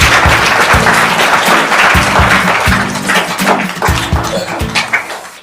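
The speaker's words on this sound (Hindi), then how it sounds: "जोरदार तालियां हो जाए के लिए" Applause from a game-show studio audience, loud clapping that runs for about five seconds, mixed with beats and fading near the end.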